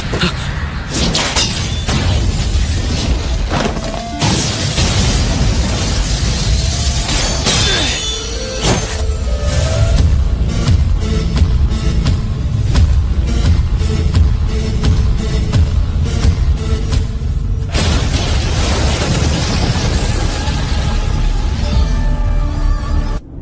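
Loud, chaotic crashes and booming impacts with shattering debris in the Hindi-dubbed anime Jujutsu Kaisen, a dense continuous barrage of blasts and thuds running throughout.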